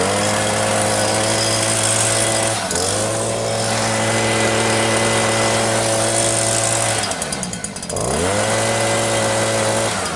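A new STIHL SH 86 / BG 86 blower's small two-stroke engine runs steadily at a constant pitch, dipping briefly twice as the throttle drops and revs climb back. It is loud, close and continuous, with no talking.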